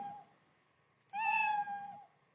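A cat meow sound effect, used as a character's sound in a children's coding exercise, plays once as a clear, drawn-out meow after a short fainter lead-in, close and alone.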